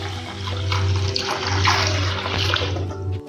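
Water pours steadily into a pot set on a gas stove, a continuous splashing rush that stays close and fairly loud with no talk over it.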